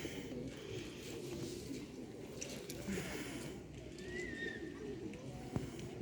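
Soft, repeated pigeon coos murmur over a busy outdoor background on Skorulskoho Street in Zhytomyr, Ukraine, with a few faint chirps and a brief sharp sound near the end.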